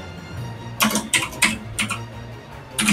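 Quick keystrokes tap on a computer keyboard while a title is entered in editing software, a few sharp clicks spaced out over three seconds, close and moderately loud with no voice.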